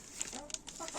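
Hens near a feed mix give short, soft clucks in a brief burst of a few calls, somewhat distant and quiet against faint background noise.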